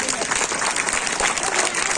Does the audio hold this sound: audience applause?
yes